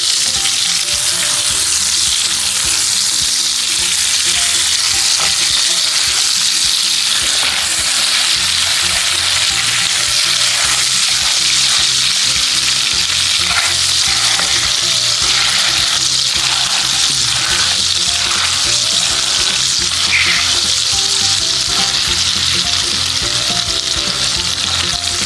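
Steak frying in a pan gives a loud, constant sizzle and crackle for the whole stretch, with occasional stirring and spattering sounds close up.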